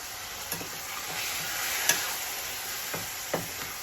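Food frying in a pan is stirred with steady sizzling underneath, broken by several distinct scrapes and knocks of the spatula against the pan, close and alone without talk.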